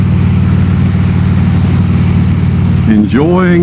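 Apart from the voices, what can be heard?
Harley Davidson Road King motorcycle riding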